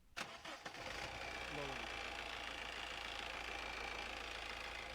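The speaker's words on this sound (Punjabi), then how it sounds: "ਸੈਲਫ ਮਾਰਿਓ ਗੱਡੀ ਦੀ ਸੁਣ ਵੀਰੇ ਗੱਡੀ ਦੇ ਸਟਾਰਟ ਦੀ ਆਵਾਜ਼" A 2015 Honda City engine cranks with a few quick rattling turns, then catches and settles into a steady, close idle hum.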